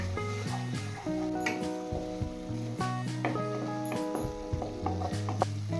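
Spice paste of ground cashew, poppy seed and mixed spices is stirred and fried in a pan, with steady sizzling and soft scraping strokes beneath sustained background music tones.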